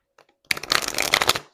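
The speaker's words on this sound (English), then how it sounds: "Let me shuffle this one more time." A deck of tarot cards riffles in one quick, crisp burst of about a second, close and clear after a brief faint rustle.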